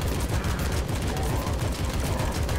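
Dense, rapid gunfire rattles without pause in the AK-xolotl video game, layered bursts of automatic shots at moderate loudness.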